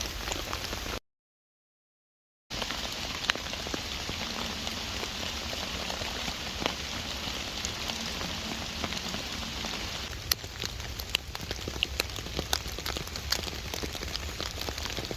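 Heavy rain pours steadily onto a Unigear Space Dome 2 dome tent, a dense, constant hiss of drops drumming on the fabric with occasional louder splats, heard alone without talk.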